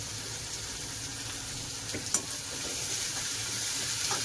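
Onion frying in a pan gives off a steady, even sizzle that holds at the same level throughout, with a faint clink partway through and no talk.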